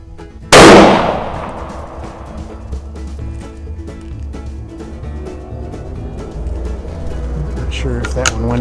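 A single sharp, loud rifle shot from a Savage model 840 chambered in .222 Remington, fired on a range at 100 yards, cracking early and ringing out as it decays, followed by quiet background and someone speaking.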